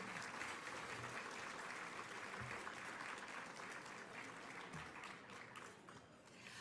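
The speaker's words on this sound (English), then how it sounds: "Let's give them a great big round of applause." Steady applause from a gala audience at a 41st anniversary celebration, dense and sustained throughout, filling the room at an even level without any voices over it.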